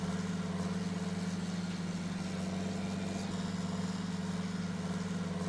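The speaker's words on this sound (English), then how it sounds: "Let's see how this tractor copes with this." A tractor engine runs steadily in a field of high-yield corn, a constant low rumble with a droning hum that holds even and close throughout, with no talk over it.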